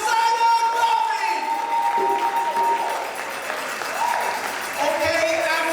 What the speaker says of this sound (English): Please applaud for August 17th, the birth of the Honorable Marcus Mosiah Garvey!